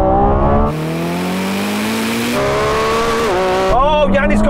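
A Lamborghini Revuelto, a Ferrari 296 and an SF90 launch together in a drag race, loud engine roars climbing in pitch through quick gear shifts with brief tire squeal, close by.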